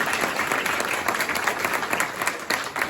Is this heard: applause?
yes